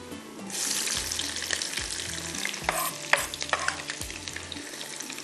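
Chopped onion and tomato dropped into hot oil with mustard seeds and cumin for achari daal, giving a loud, steady sizzle up close while a utensil scrapes and stirs through the pan.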